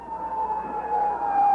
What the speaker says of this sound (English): as an ambulance pulls in front of the Hilton Hotel